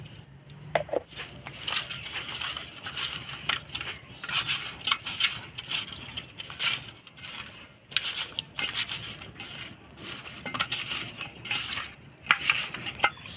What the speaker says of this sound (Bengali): মাছটা হলুদ লবণ দিয়ে মাখাই নিলাম